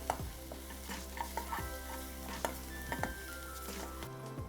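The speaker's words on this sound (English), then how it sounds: "So we have to saute all the vegetables on high flame." Vegetables and garlic sautéing in a pan over a high flame, a soft continuous sizzle broken by repeated stirring scrapes and light clatter, with no talking.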